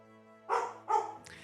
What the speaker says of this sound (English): It's barking at the sunroom door.